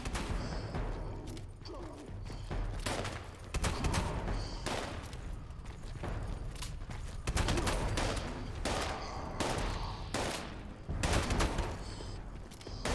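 Repeated gunfire from a high-damage weapon in Fallout 76, sharp shots in quick irregular bursts, loud and steady throughout, with no talk.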